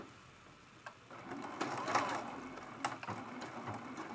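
Domestic sewing machine backstitching to lock the stitches on a quilted tea pot mug rug: a steady, close mechanical whir with light rhythmic clicks, running for a few seconds without talk.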